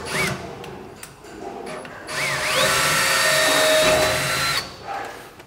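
A power drill with a 2.5mm bit pilot-drills aluminium for a hand-cut boat build, whining in two close bursts with rising pitch at each start and short pauses between.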